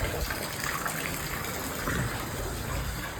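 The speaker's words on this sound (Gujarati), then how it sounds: "પાછળ નદી આવેલી એ તમને બતાવું" Steady broadband rushing water from a river flowing just behind a tent in rainy weather, a continuous even wash with no talk.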